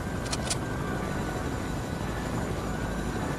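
A video-game helicopter drones on steadily, a constant engine and rotor hum at moderate level with no speech over it.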